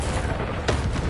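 Incendio fire spell in Hogwarts Legacy, heard as a brief dense roaring burst of flame with a sharp whooshing crack partway through, loud and close.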